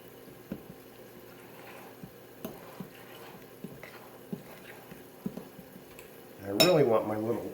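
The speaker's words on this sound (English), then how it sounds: "I'm just going to give this a stir" Pancake batter gets stirred in a pan with a utensil, producing soft intermittent scrapes and taps, then a louder clattering burst of metal against the pan near the end, with faint kitchen ambience throughout.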